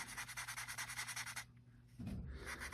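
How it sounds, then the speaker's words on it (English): Wet sanding rubs black paint off a plastic model kit stand in quick, steady back-and-forth strokes, close and soft, with a brief pause before the rubbing resumes. "we can cheat and wet sand off the black paint to reveal its original yellow color."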